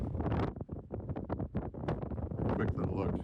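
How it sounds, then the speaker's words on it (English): Gusting wind at the sea in Iceland buffets the microphone with rumbling, uneven blasts while a person talks close by. "there's a lot of wind out there on the sea"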